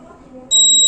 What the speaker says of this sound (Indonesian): Nah, itu adalah bunyi alarmnya.